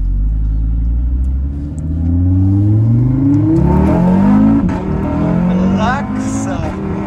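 Built Audi RS3 engine revving hard from inside the car, a loud rumbling climb through rising pitch with short dips as it pulls and shifts, brief voices over the engine.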